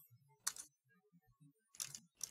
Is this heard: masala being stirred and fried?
no